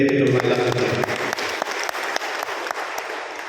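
A church congregation claps at the end of a Sunday Lenten Mass, steady dense applause that starts over a fading tone and continues evenly, with no one speaking.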